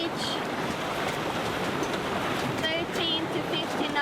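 Steady wind rushing and waves washing around a sailboat on a beam reach in 13 to 15 knots of wind with sizable waves, continuous and close, with a voice talking over it.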